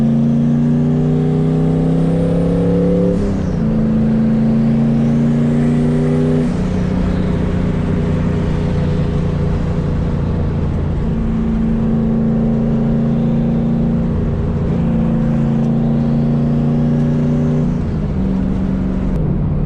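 The engine of a turbocharged Mustang making over 500 horsepower drones steadily from inside the cabin on the highway, loud and continuous, its pitch dropping and rising again as gears shift.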